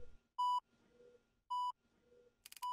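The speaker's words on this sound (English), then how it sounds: "I hear beeping." Hospital beeping in the Roblox video game: three loud, clean electronic tones spaced roughly a second apart, with faint background rumble between them.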